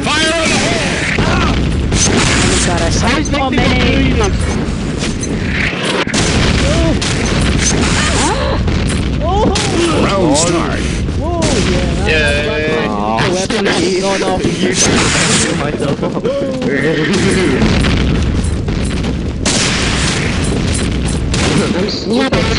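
Grenades exploding in an online multiplayer shooter game, dense booms and crashes with gunfire under constant excited voices and shouting players.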